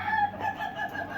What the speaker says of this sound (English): I just want to get some good chicken cackling.